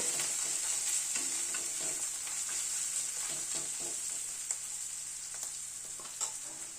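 Cumin and turmeric powder are stirred in hot oil in a frying pan for a cabbage curry, a steady bright sizzle with repeated spatula scrapes and taps close by.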